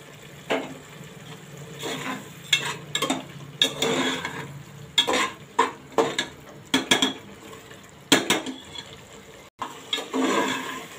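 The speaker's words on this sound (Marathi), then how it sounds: "आता हा मसाला चांगला फ्राय झालाय" Onion and tomato masala frying in a pan is stirred with a metal utensil, giving a run of irregular scraping and clinking strokes against the pan over a low, steady sizzle, with no voices.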